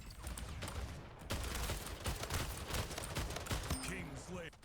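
Rapid gunfire from the video game Splitgate, a dense run of shots throughout with a brief pause near the start, loud and close, with some game effects and voices mixed in underneath.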